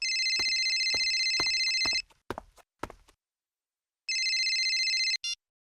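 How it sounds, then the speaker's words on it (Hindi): Telephone ringing in a late-night horror drama scene: a long electronic ring for about two seconds with footsteps or knocks around it, then silence, then a second ring cut off sharply as the call is picked up. "इस सुनील को फोन करके देखते हैं, शायद वो अपना फोन उठा ले।"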